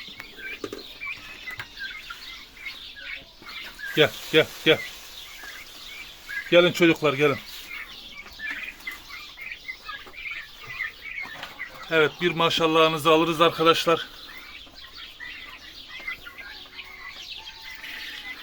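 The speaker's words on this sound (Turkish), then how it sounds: "Arkadaşlar bunlar bu sezonluk büyüttüğümüz Hindi yavrularımız." Young turkey poults raised this season peep and chirp in scattered bursts at a farm, with some wing flapping, while a man calls them over and talks between the bursts.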